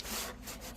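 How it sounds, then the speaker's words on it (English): Wood filler on wooden stairs being sanded, giving a brief, close, raspy scrubbing stroke that sounds faint and breathy and lasts under a second. "That's the whole purpose of sanding, is to smooth it out."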